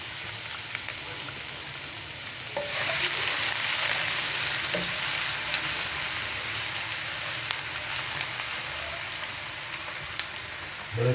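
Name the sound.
chopped ginger and garlic sautéing in melted ghee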